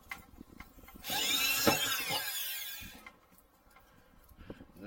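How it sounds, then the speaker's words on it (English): A power drill whirs loudly for about two seconds, grinding drainage holes through a plant pot up close, surrounded by quiet handling noises. "So I first want to drill my potted holes"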